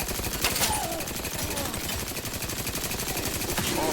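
Rapid automatic gunfire from a shooter video game, The Outer Worlds 2, rattles steadily in dense bursts throughout, loud and continuous with faint game effects layered over it.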